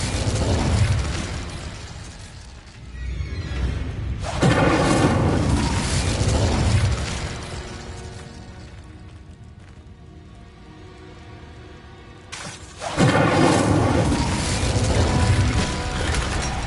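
An Incendiary fire spell in Hogwarts Legacy goes off in two loud, roaring bursts, each followed by a crackling, fading tail. Mechanical clicks sit between the blasts.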